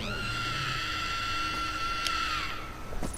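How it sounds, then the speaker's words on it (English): A dinosaur in the LEGO Jurassic World game lets out a long, sustained high-pitched scream that slides downward at the end, loud and close with no talk. "she obviously has the ability to scream"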